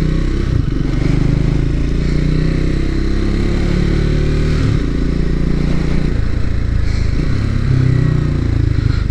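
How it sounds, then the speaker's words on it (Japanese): A Triumph Scrambler 400X single-cylinder motorcycle engine with stock exhaust thumps steadily close by, a low rhythmic putt-putt idle with slight rises in revs, loud and unbroken. "純正マフラーでねポポポポポっていうねなんかすごいこの短気筒の音がね"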